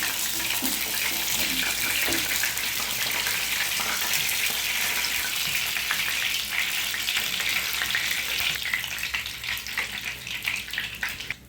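Chicken pieces shallow-frying over low heat for a wedding-style Bengali chicken fry; a loud, continuous, close hiss of bubbling oil that steadies and thins slightly toward the end, with no talk.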